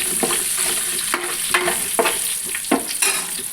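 Biryani spices frying in hot ghee, a steady sizzle with a series of spoon scrapes and stirring knocks every half second or so, close and alone with no talking.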